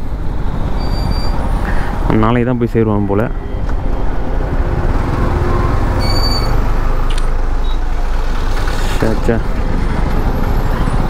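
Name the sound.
heavy road traffic with buses and trucks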